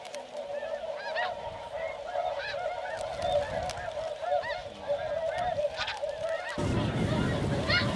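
A flock of snow geese calls over decoys on sheet water, dense overlapping honks and yelps near and far continuing throughout, with a low rumbling noise joining toward the end.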